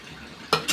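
Paneer curry with water in a pan is stirred with a utensil: two short, close scrapes and sloshes follow a quiet simmering background.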